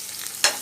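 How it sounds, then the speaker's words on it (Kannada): Chopped garlic fries in oil with a soft, low sizzle, broken near the end by one brief louder hiss as it is stirred. "ನೋಡಿ, ಬೆಳ್ಳುಳ್ಳಿ ಫ್ರೈ ಆಗ್ತಾಯಿದೆ."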